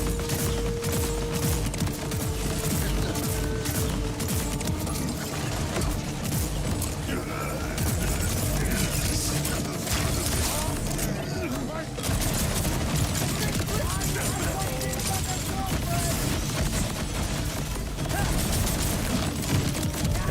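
Rocket launcher fire in the Borderlands video game, dense bursts of launches and explosions layered with gunfire and mechanical clatter, a busy continuous battle mix over background game music.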